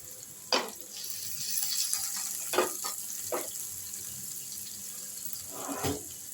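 Green chillies with seeds and stems removed fry softly in a pan under a faint steady sizzle, broken by several short scraping stirs of a spoon.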